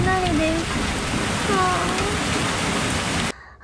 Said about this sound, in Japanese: すごい豪雨と雷です。